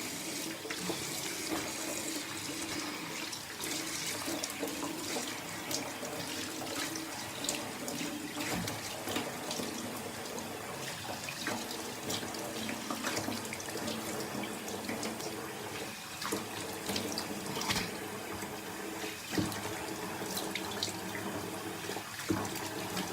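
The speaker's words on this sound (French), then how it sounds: "Et je vais rincer." Tap water runs steadily while exfoliating face scrub is rinsed off during a facial skincare routine, a close, continuous splashing stream with no talking.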